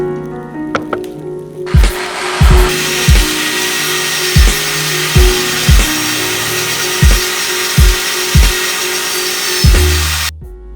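A power tool grinds carbon deposits off an engine piston in a workshop, a steady high whine broken by about ten evenly spaced heavier catches or bumps, loud and close, running for about ten seconds before stopping.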